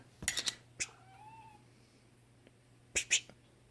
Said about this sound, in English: Oh, my cat came to help,